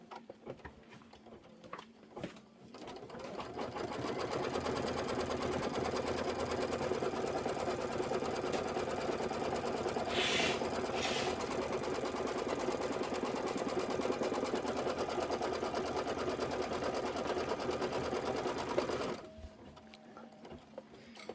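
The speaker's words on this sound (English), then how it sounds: "And now I'm going to go ahead and let it do the stitching." An embroidery sewing machine stitches quilt pieces for a Kimberbell Candy Corn Quilt Shoppe design, running with a fast, steady, close mechanical whir and tick for about sixteen seconds before it stops.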